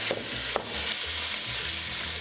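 Meat sizzles loudly in very hot fat in a pan, a dense steady hiss with a couple of sharp spits as it goes in, no voices.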